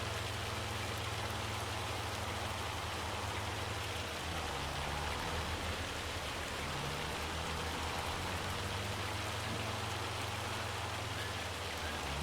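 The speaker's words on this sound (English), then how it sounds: "I don't know when this rain is gonna stop." Steady rain pours down over a farm in Farming Simulator, an even hiss with a low rumbling drone underneath, continuous and unbroken throughout.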